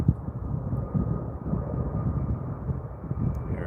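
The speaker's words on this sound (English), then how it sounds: "you might see another 737 just climbing away if it's still below the cloud" A Boeing 737 climbs away after takeoff from the other runway at Calgary Airport, a steady low jet roar rising and falling slightly as it passes at a distance, with no talk.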